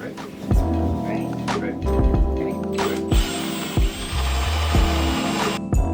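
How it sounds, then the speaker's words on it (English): A power drill whirs in several short bursts, each with rising pitch, drilling holes in a hollow-core wooden surfboard, with clunks and knocks of wood handling between runs. "time to drill the last 2 holes in this board"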